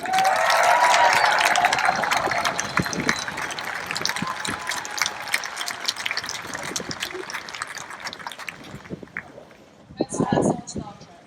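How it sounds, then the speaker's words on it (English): Audience clapping at a windy poolside event on a Star Trek-themed cruise ship, strongest at the start and thinning out over several seconds, mixed with wind noise and voices, before a short burst of laughter or cheering near the end. "let's bring a big round of applause for Denise Crosby."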